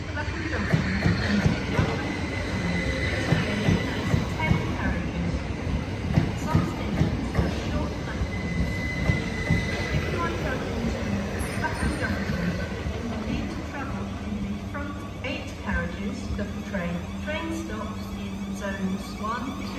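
SWR Class 444 electric trains pull out of Southampton Central station bound for London Waterloo, a rolling rumble with rhythmic wheel clicks over rail joints beneath busy platform chatter and crowd noise.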